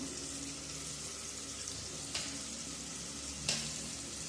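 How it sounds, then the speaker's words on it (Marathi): Onion and tomato fry in oil in a pan with a steady, soft, continuous sizzle and two brief clinks partway through. "आपला कांदा, टोमॅटो पण शिजतोय, परततोय तेलामध्ये."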